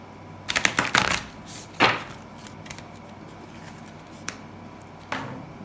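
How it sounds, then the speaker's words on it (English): A deck of oracle cards is shuffled by hand in a few quick riffling bursts, the loudest near the start, followed by scattered softer card flicks and taps, close and clear with no talk. "I feel like I need to shuffle this one more time this way."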